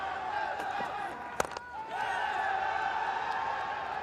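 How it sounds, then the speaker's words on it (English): Crowd at a Nepal cricket match, a dense roar of many voices that swells and grows louder after a brief dip, with a sharp knock midway. A commentator talks over it. "The Nepalese crowd, the volume's going up."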